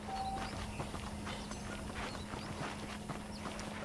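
Horse hooves clip-clopping in the Red Dead Redemption video game, a steady walking rhythm of hoofbeats under a constant low hum, with no voices.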